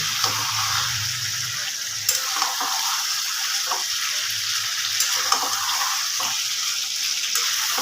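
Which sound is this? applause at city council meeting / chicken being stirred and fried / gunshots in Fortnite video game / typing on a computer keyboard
chicken being stirred and fried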